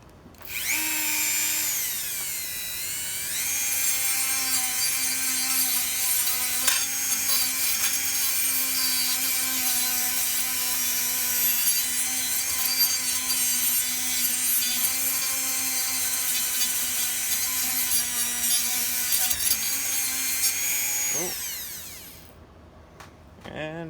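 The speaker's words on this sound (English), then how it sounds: "We're drum sanding around that line that we put in." A power drum sander grinds around a marked line on a racing tractor's exhaust pipe clamped in a vise, a loud continuous whine that spins up, holds steady for about twenty seconds, then winds down.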